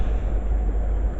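A Class 378 train rumbles into Stratford station in London, terminating there. The heavy low rolling drone is loud and close, with no voices over it.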